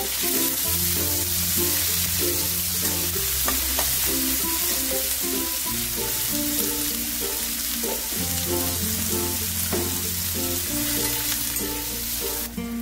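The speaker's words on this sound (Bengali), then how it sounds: "এবারে আমি দিয়ে দেবো একটা মিডিয়াম সাইজের পেঁয়াজ কুচিয়ে রেখে দিয়েছিলাম, সেই পেঁয়াজটা।" Chopped medium onion frying in a pan with garlic for a spinach, fenugreek and paneer dish, a steady dense sizzle running throughout with scattered stirring clicks, close and loud, no talk.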